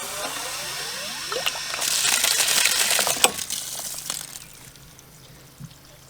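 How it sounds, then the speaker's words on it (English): Water gushing from a frost-free yard hydrant spigot after it is opened, rising into a loud rushing spray for about two seconds before dropping to a quieter trickle. "Let's turn this spigot on and see water free flow from the hydrant"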